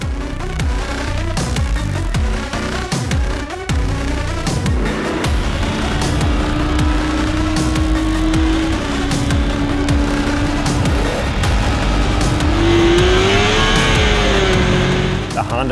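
A 2011 Harley Softail with a 600cc engine races down the Bonneville salt flats course, its engine droning loud and steady with rising and shifting revs for the whole stretch while someone talks over it.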